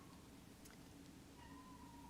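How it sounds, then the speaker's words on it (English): A pet cat meows from downstairs, faint and distant beneath a steady background hum, with a short cry rising briefly once or twice. "Do you guys hear Fred downstairs meowing?"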